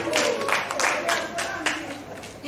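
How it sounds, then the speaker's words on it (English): Audience clapping during a cultural tribute event, several bursts of hand claps at roughly even intervals, fairly close, with crowd murmur around them. "clap me still."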